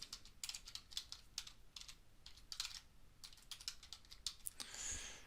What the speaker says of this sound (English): We will merely type